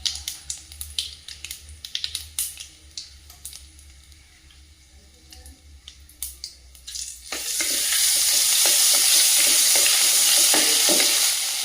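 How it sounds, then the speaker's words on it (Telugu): Light scraping and stirring, then from about seven seconds a loud, steady sizzle of curry leaf chutney frying in a hot oil tempering with occasional spoon clinks. "తాలింపులో ఈ చట్నీ ఫ్రై చేస్తున్నా"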